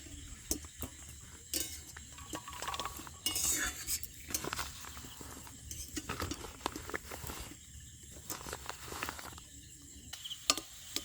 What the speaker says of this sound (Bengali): আমি এবার একটু বেসনটা গুলে নেবো